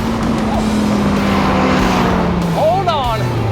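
A Dodge Viper sports car engine roars loudly and continuously during a quarter-mile run, with a high, sweeping whine toward the end; a person shouts over it.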